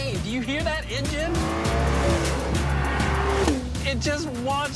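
A car engine revs and whines with pitch sweeping up and down, mixed with screeching tire squeal and skidding, loud and close, with a voice speaking over part of it.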